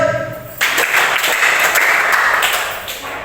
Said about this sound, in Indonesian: Kalau kalian siap, silakan kalian tepuk tangan 3 kali.